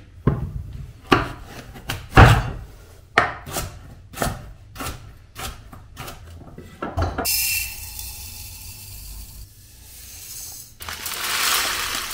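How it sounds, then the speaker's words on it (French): Knife chopping washed sweet potatoes into cubes on a board: a series of sharp, close thuds at a steady, slightly uneven rhythm, followed by rustling and scraping as pieces are moved, with no talk. "on va juste enlever les bouts et les couper en cubes"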